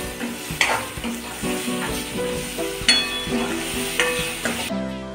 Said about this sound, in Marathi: वाटण हे चांगलं परतून द्यायचं।